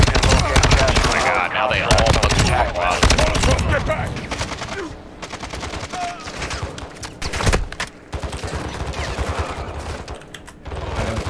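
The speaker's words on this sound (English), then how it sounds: "Taking effective fire!" Gunfire in the Call of Duty MWII DMZ video game: dense, rapid automatic bursts and overlapping shots crackle almost continuously, loud and close, with brief lulls between volleys.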